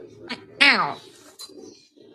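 A cat gives a single clear, rising-then-falling meow, close and fairly loud, amid soft background voices and small noises.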